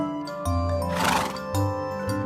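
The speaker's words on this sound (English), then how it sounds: "Donkey," A farm donkey lets out a single brief, harsh bray over light background music.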